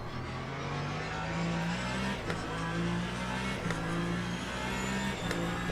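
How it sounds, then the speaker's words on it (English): A hybrid prototype race car from the sim Le Mans Ultimate holds a steady high electric whine over its engine drone, pitch stepping up and down with gear changes and throttle in a continuous onboard sound. "I do like the sound, the whining of the hybrid."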